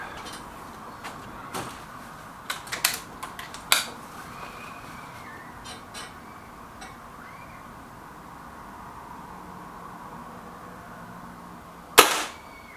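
Kral air rifle shots during a Nish versus Puncher Breaker comparison, a cluster of sharp snapping cracks early on and then one louder, close crack after a quiet stretch, with faint mechanical clicks in between.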